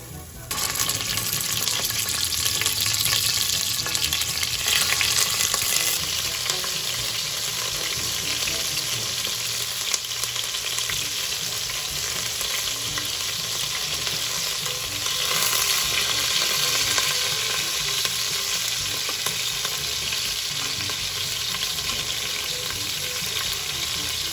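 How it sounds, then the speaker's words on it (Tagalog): Steady, loud sizzling of chicken frying in oil in a pot, a continuous crackle with occasional stirring clatter, no talking. "At ang una ko pong gagawin ay ipiprito ko po muna yung manok ko."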